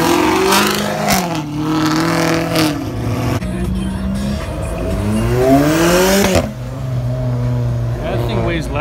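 Matte black Lamborghini Aventador SV engine revving hard, a loud high whine climbing and dropping through repeated throttle blips and gear shifts, with a person's voice talking over it.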